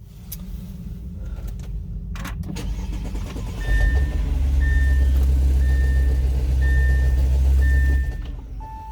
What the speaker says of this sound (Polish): Silnik strasznie rzęcholi.